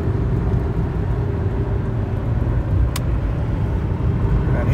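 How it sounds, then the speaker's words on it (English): A Dodge Dynasty cruising in top gear at 65 mph, heard from inside the cabin as a steady low engine and road drone with a smooth, even hum. "And here we go, just cruising down at 65 miles an hour."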